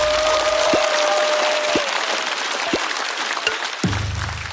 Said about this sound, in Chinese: 再次掌声送给小帕